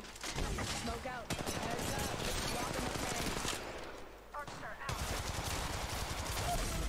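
Gunfire in the Apex Legends Mobile game in a team deathmatch, dense rapid automatic bursts that are loud and continuous, with a short dip in the middle, under excited talk.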